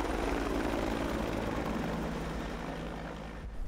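A hovering helicopter right overhead, very close, its rotor chop and engine roar loud and steady before easing off near the end, with no voices.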